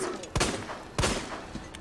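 Two sharp gunshots in the Resident Evil 2 Remake video game, spaced about half a second apart and standing out loud against a low background hum.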